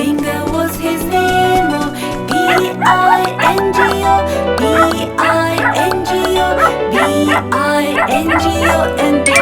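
In a nursery rhyme about a farmer's dog, bright, tonal, musical yips and barks repeat rhythmically over a song backing, loud and close.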